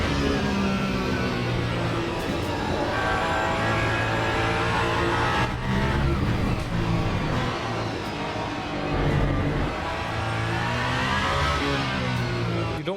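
A racing car engine in a video game holds a steady, loud tone and climbs as the throttle opens, with dense harmonics that keep going without a break.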